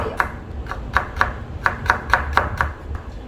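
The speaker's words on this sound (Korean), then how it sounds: "겹쳐서 채를 썰어 보도록 할게요" Knife strokes julienning stacked cucumber slices into thin 0.2 cm strips on a cutting board, nine or so crisp, evenly spaced taps close up with no talking.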